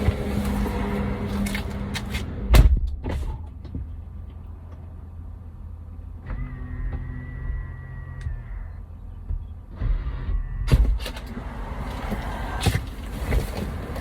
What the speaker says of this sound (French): Je vais sortir de la voiture.